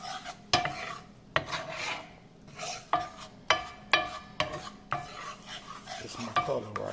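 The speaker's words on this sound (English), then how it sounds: "And I'm still stirring it because, you know, this is a cast iron skillet." A spoon scraping and stirring roux in a cast iron skillet with the fire turned off, giving repeated rhythmic rasping strokes close up, with no talking.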